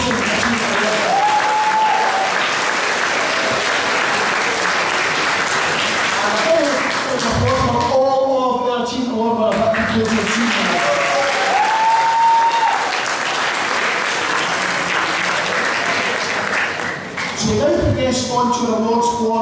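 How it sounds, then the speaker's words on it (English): Sustained audience applause fills a school junior prizegiving hall, steady and dense for most of the stretch, with a brief dip midway and a short break near the end; some murmured voices and stray tones sit underneath. "Folks, a round of applause for the Robertson."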